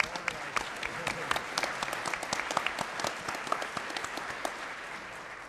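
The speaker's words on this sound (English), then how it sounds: "So I think we owe a round of applause to our organizers." A conference audience applauds its organizers: a sustained round of many hands clapping at moderate distance, with irregular sharp claps standing out over a dense, even wash throughout.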